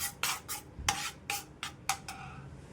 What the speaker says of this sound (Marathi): आता आपण हे गॅसवरून पॅन काढून घेऊया